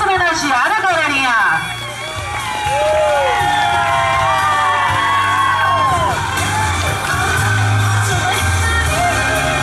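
A lively crowd at a birthday celebration cheers and whoops loudly, with children shouting and excited yelling throughout, continuous and close.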